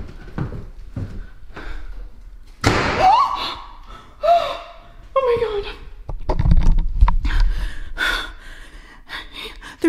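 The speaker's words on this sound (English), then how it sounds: "The door just slammed." A house door slams once with a sharp thud amid a tense, quiet interior, followed by gasping, breathing and hushed talk nearby.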